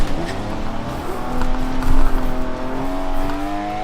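Race car in Forza Motorsport 7 played on a Logitech G920 wheel, its engine droning steadily with a rising pitch and sustained tire scrub as the car understeers through a corner, loud and continuous.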